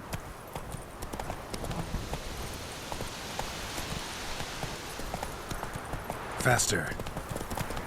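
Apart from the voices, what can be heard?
horse Roach galloping, from the video game The Witcher 3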